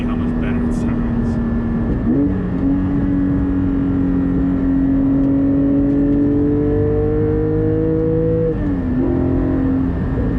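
Porsche GT4 with a Soul Performance over-axle exhaust pipe, heard from inside while driving: a loud, steady engine drone that dips and climbs as the revs shift through gears, continuous throughout.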